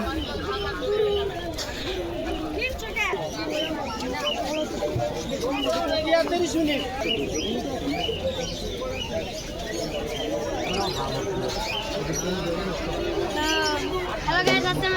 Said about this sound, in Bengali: আজকে আমরা হাটে যাচ্ছি দেখতে পাচ্ছেন চারোদিকে পাখি